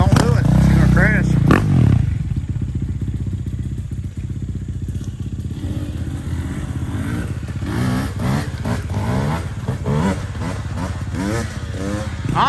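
A motorcycle engine revs hard during a wheelie attempt, a loud, close, throaty drone rising and rattling over a dozen seconds while people talk over it.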